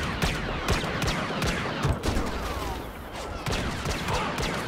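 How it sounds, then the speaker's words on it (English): Sustained gunfire in the video game Star Wars Battlefront, set in the Battle of Jakku: dense, overlapping bursts and sharp shots crackle continuously for several seconds, loud and close, with no talking. "Someone's shooting at me."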